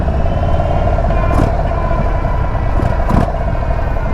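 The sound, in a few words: Indian Sport Chief motorcycle engine while riding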